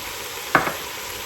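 A spoon stirs garlic frying in a pan while cooking a Caribbean dinner: one quick scrape and a softer second stroke over a faint, steady sizzle.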